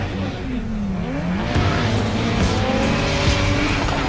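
A Toyota Supra race car drives at an event, its engine tone rising and falling with tire squeal and skidding noise, loud and continuous, with a commentator's voice running underneath.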